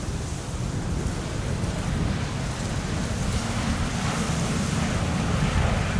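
Strong Storm Bert wind roars across Amsterdam Schiphol Airport, a dense, continuous rumbling gust noise buffeting the microphone with low-end blasts, loud and unbroken throughout.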